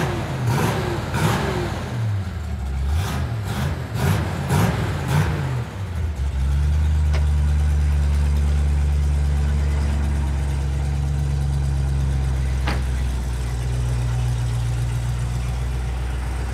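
A 1972 Chevy Nova SS with a 396 V8, Holley Sniper EFI and four-speed manual revs in several sharp blips, then settles into a loud, steady, rumbling idle close by.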